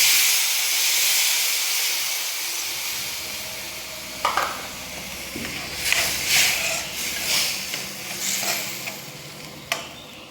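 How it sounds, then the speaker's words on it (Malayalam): A steady hiss of tamarind water hitting a hot pan of dried shark, with a few clinks and scrapes of utensils scattered through the sizzle. "ഇനി പുളി ഒഴിക്കാം"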